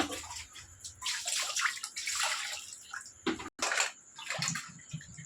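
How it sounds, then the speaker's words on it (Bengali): Crabs being washed by hand in water, busy splashing and sloshing with dripping and trickling, close and continuous with one short break. "ভালো করে ধুয়ে নেবো কাঁকড়া"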